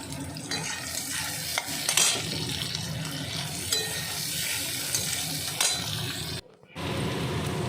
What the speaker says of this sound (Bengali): কড়াইতে কালো জিরা ফোড়ন দিয়েছি আর পেঁয়াজ কুচি দিয়ে দিলাম।